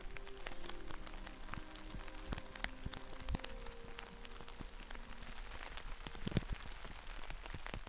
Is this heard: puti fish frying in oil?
no